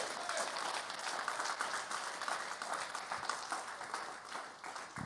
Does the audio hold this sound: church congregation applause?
yes